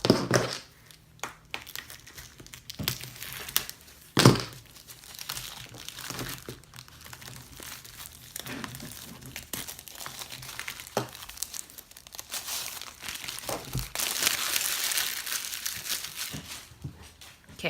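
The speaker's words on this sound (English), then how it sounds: "let me get into the package." A plastic-wrapped card-making kit is opened, with close crinkling and rustling of the packaging, sharp crackles and a louder tear-like burst partway through, plus handling taps and no clear talk.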